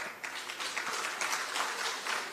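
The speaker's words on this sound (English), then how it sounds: "So, yes, you can clap." Audience at a Ministry of Labour and Social Security townhall meeting clapping, a continuous even patter of many hands at moderate volume, with no speech on top.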